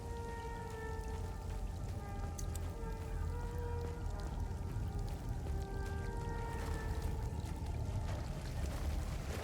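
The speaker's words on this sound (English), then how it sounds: "The waves." Waves in the video game Hell Is Us, a steady dense wash of water with low rumbling surf and faint tonal drones layered through it, continuous and moderately loud throughout.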